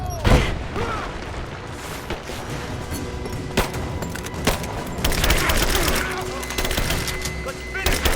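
Bursts of gunfire and heavy booms crack through a firefight in Rise of the Tomb Raider, loud and close, with shots repeating irregularly throughout while voices call out over the shooting.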